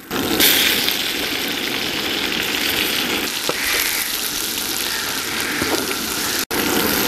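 Tomatoes frying with onion, ginger and garlic for a prawn gravy produce a loud, continuous, close sizzle that stays level for the whole stretch, with a brief dropout just before the end.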